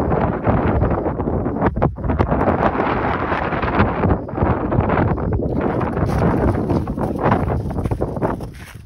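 Strong, gusty wind buffets the microphone at the edge of the woods near water, a continuous loud roar with rustling, heard alone without talk.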